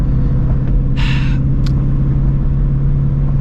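Deep, steady engine rumble of a Ford Shelby GT350 Mustang, heard from inside the cabin with the windows rolled up, droning continuously with a brief hiss partway through.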